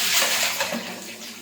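Water splashes and pours during a rinse while bathing, a brief close rush of running water that tapers off quickly.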